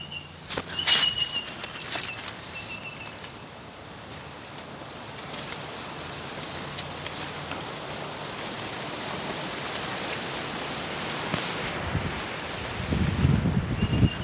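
Wind blowing outdoors in a garden, a steady airy rush buffeting the microphone with rustling gusts, rising briefly near the end.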